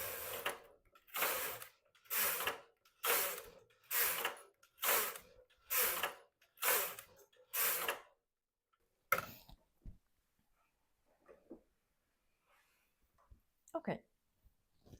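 A knitting machine carriage is pushed back and forth across rows of waste yarn, giving eight evenly spaced rasping, clacking sweeps close by. Quieter clicks and handling noises follow after the rows end.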